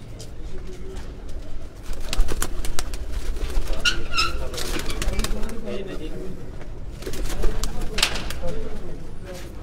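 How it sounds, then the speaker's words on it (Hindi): Breeder pigeons cooing inside a cage, soft repeated coos and rustling layered over steady background noise and voices talking nearby, with brighter bursts of calls around the middle and near the end. "ये ब्रीडर कबूतरों का केज है"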